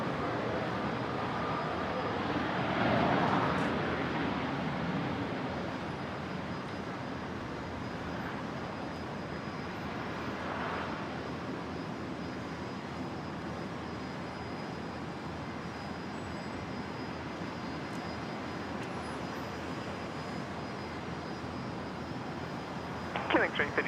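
Airliner jet engines roar steadily at Brisbane International Airport as a broad, even rumble that swells slightly early on, with faint radio chatter and talk underneath.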